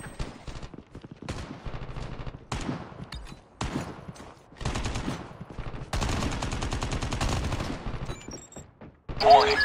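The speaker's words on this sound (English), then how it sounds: "Friendly sentry gun deployed." A sentry gun firing in the mobile shooter Call of Duty Mobile, loud rapid automatic bursts that start and stop repeatedly, ending in a sustained stream of fire with game effects on top.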